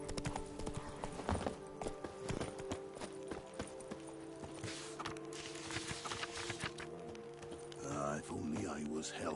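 Geralt's horse Roach in The Witcher 3 clip-clopping at a steady walk, hoof beats close and repeating over game ambience, with voices talking in the background.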